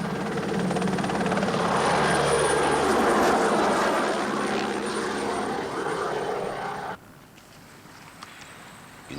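A helicopter's rotor and engine roar loud and steady close by, then cut off abruptly, leaving a faint background.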